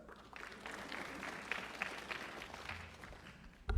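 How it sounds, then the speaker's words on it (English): Audience applause at a GAWU 50th anniversary celebration during an address by President Irfaan Ali, a steady, fairly faint wash of clapping from a crowd that holds for a few seconds, then a louder bump at the very end. "Yes, you can applaud that."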